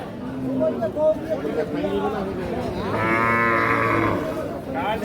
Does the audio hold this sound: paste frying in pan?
no